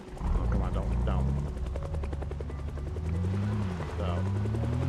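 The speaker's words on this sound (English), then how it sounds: "And it sounds like the chopper's here" Helicopter hovering in Project Zomboid: a close, steady rotor chop with a low droning hum, while a person talks over it and other game sounds come and go.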